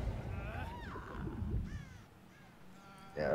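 Crows caw in Dead by Daylight, a few harsh calls rising over a busy game background with voices talking over them.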